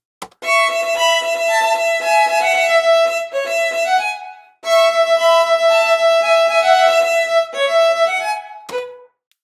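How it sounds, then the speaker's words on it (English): Bowed strings play a sustained melody from an orchestral arrangement that passes between first and second violins, with a brief pause midway and a soft trailing note at the end. "A typical swapping between first violin and second violin happening in bar 57."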